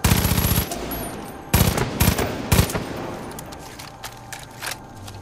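Far Cry 5 gunfire opens with a rapid automatic burst, then single sharp shots crack at intervals, loud and near, fading to scattered softer reports.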